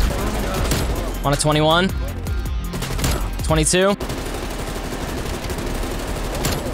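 Sustained automatic gunfire and sentry gun fire from the XM4 rifle in Black Ops Cold War, a dense near-constant rattle with a voice speaking over it.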